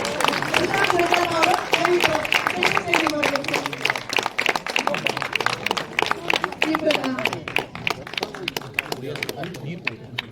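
Audience at a Kannada film screening event in Dubai applauds in a dense, steady wash of clapping that runs throughout, with voices talking over it.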